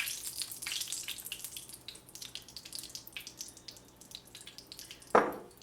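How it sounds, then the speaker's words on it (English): Basil sauce poured over chicken parmesan in a home kitchen, a wet, close splashing trickle running throughout with small drips and a sharper plop near the end. "I'm going to take my sauce and pour that sauce right on top."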